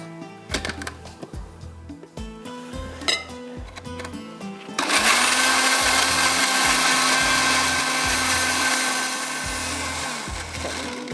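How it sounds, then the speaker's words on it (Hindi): An electric blender grinds onions for a beef handi masala, first a few stuttering pulses with knocks, then a steady loud whirring roar that runs on to the end with no speech. "पहले प्याज पीस लेते हैं ताकि हम जब उसमें ऑयल डालें तो वो मसाला ना जले हमारा"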